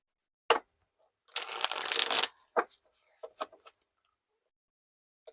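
Tarot cards shuffled by hand in a quiet room, a short snap followed by a longer riffling burst and then a few scattered soft taps and flicks, close and fairly faint.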